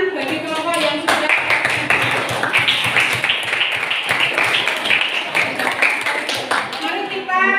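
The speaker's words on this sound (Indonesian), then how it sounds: "Sekali lagi tepuk tangan bagi kelompok yang sudah." Classroom applause for student groups after their presentations, many hands clapping steadily and close for several seconds, with voices mixed into the clapping.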